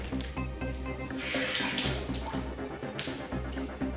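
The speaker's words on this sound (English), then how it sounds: "So I'll just rinse that off" Tap water runs into a sink while a razor is rinsed off during a wet shave, a steady close splashing stream with brief changes as the blade passes through it.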